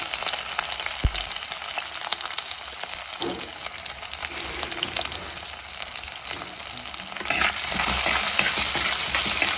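Ginger and garlic fry in a pan with a steady, soft sizzle, broken by a few clinks and stirring scrapes, and the crackle grows fuller and louder near the end.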